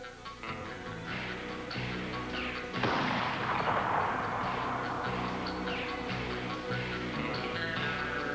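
Percussion cap guns firing, a dense spell of booming, crackling gunfire that thickens into a loud sustained volley partway through, echoing and continuous with no voices.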